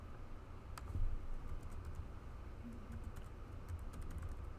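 Computer keyboard keys clicking faintly and sparsely as code is typed, a few scattered taps over a low steady room hum.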